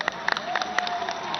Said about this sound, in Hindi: उन सब के लिए एक तालियां बजाएं जबरदस्त